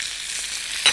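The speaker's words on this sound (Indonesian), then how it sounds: "kita aduk lagi" Ingredients for sayur lodeh, including salted fish, tempeh and melinjo leaves, sizzling as they are stirred in a pan, with a constant fry hiss and a brief louder scrape of the stir near the end.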